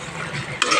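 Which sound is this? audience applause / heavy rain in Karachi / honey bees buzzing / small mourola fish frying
small mourola fish frying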